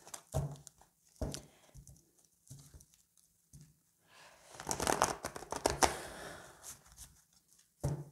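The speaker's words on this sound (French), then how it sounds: "je n'arrive plus à mélanger mes cartes" Tarot cards being shuffled by hand, close and quiet: short riffling bursts separated by pauses, then a longer rustling shuffle in the middle before another brief flick at the end.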